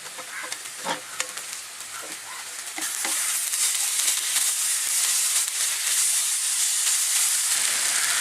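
Chopped tomatoes hit browned onions in a hot pan, sending up a loud, steady sizzle and hiss that swells after a few soft stirring scrapes and keeps going.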